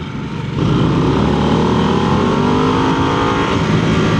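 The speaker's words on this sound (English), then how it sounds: "Nice rorty exhaust, isn't it? It's a fun sound." A Harley-Davidson Nightster motorcycle engine revs hard and pulls under acceleration out of a corner in second gear, a throaty exhaust roar rising and holding steady up close.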